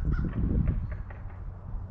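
A crow caws repeatedly near a workshop where a 1961 Chevrolet Bel Air wagon chassis is being torn down, a few harsh calls at moderate distance over low background rumble.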